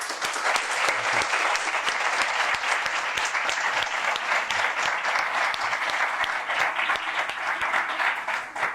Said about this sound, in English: I just have to ask you for a big applause